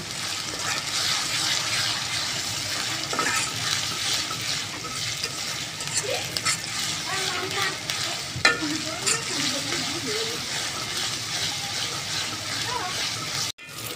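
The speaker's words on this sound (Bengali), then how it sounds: "এখন পেঁয়াজে আদা বাটা, রসুন বাটা, জিরা বাটা দিয়ে দিয়েছি। এখন আদা রসুন জিরাগুলো একটু ভেজে নেব।" Ginger, garlic and cumin paste frying with onions in a pan for a chicken curry, a steady loud sizzle with occasional stirring scrapes, and a faint voice in the background.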